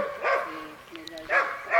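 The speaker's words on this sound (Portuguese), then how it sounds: "É, tem uns cachorros bravos aqui, né?" A dog barks twice, sharp and fairly close, with a short pause between the barks.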